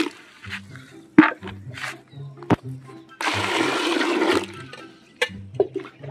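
Water is poured over freshly gathered wild termite-mound mushrooms in a village to wash off soil, making a steady rushing splash of about a second amid people talking.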